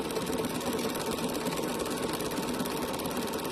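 A sewing machine runs a programmed stitch combination, stitching continuously at a steady rapid mechanical rhythm, loud and close, with no talking over it.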